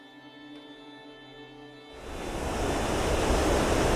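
The Valurfossen horsetail waterfall and its river on Hardangervidda, Norway: a steady, loud broadband rush of falling water that rises sharply about halfway through and then holds.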